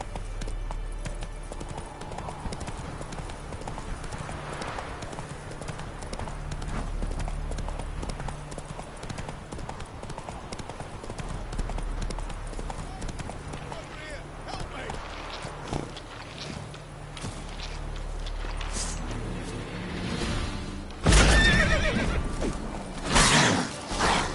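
Geralt's horse Roach in The Witcher 3, steady clip-clopping hooves moving at a trot amid creaking tack and game ambience, with a louder burst near the end and voices talking.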